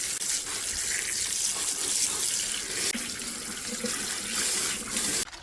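Vegetables are rinsed under a running kitchen tap, a loud, steady gush of water splashing into a sink for the whole stretch, close by.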